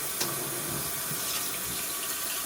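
Faucet water runs steadily into a sink while a whole raw chicken is rinsed, a close, continuous splashing rush broken by small irregular spatters as the stream hits the bird.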